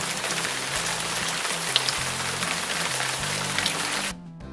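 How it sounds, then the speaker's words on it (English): Steady rain pattering on a surface, a dense, even hiss of drops that continues throughout before cutting off abruptly near the end. "Rainy."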